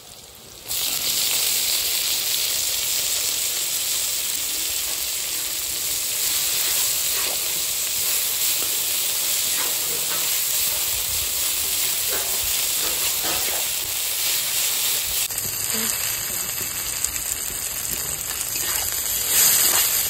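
Leafy greens sizzle and fry in a pan alongside brinjal, giving a steady close hiss with occasional stirring scrapes, with no talking.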